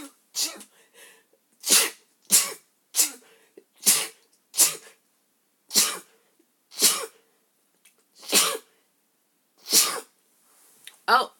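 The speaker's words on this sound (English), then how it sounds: "Oh, I'm going to sneeze." A long string of sharp, explosive sneezes, about a dozen bursts evenly spaced, close and loud with quiet gaps between.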